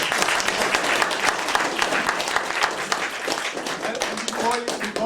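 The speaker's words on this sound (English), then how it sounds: "Give him a big round of applause there." A crowd at a rural Irish scoraíocht evening gives a big round of applause, loud and sustained clapping close by, with a voice or two rising over it near the end.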